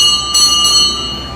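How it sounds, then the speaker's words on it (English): A bright bell on the Greenport carousel rings in two quick sharp strikes with a sustained metallic ring that slowly fades, loud and close, with no talk. "that bell means it's time to start"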